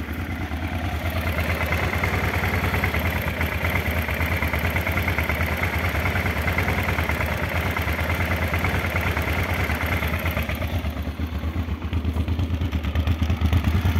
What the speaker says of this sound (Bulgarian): Като връщам газта се чува едно препукване, според мен е от въздушно-горивната смес.